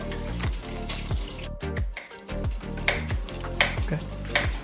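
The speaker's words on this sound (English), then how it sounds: "just to give you an idea of what the bacon looks like while it's cooking" Bacon crackles in a hot pan with a constant dense sizzle and rapid spitting pops, close and fairly loud with no talking over it.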